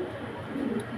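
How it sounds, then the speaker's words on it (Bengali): Pigeons in a pigeon farm giving a soft, low cooing, faint and continuous over a brief moment, with no voices. "এই যে কবুতরগুলো দেখে নেন ভালো করে"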